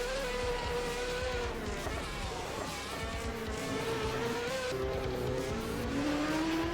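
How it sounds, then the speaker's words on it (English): A Ferrari race car on the Croft circuit, engine whining at steady high revs with a pitch dip and rise as it slides, tyres scrubbing underneath, continuous and fairly loud with no voices. "And the car is sliding."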